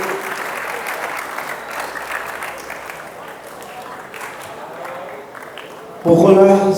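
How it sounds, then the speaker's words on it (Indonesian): A seminar audience claps in a moderate, scattered wash of hands, fading slightly midway before a louder burst of sound at the very end; a faint voice may sit under the clapping. "Baik, tepuk tangan sekali lagi."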